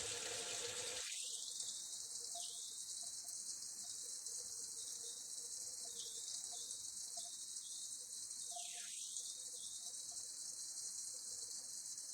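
Steady running water pours from a tap for several seconds while rinsing a razor, a continuous close gush with a brief dip partway through, no voices.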